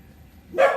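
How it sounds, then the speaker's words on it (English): A single short dog bark, sharp and fairly close, after a moment of quiet. "Sorry the dogs are going crazy."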